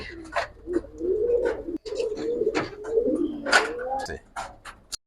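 Silver-coloured Giribaz pigeons give low, rolling coos in several overlapping phrases, near and fairly clear, with a voice talking among them.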